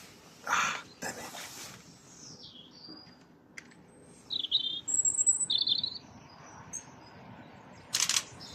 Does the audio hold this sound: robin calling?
yes